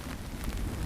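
Rain patters steadily on a hammock tarp, a dense close crackle of drops that fills the short moment without talk.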